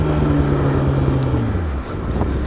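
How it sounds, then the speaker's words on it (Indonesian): A water-jug delivery truck rolls past during a morning motorcycle ride, its low engine drone and road rumble loud and close over steady wind buffeting, the pitch sliding downward as it goes by. "Truk galon sob."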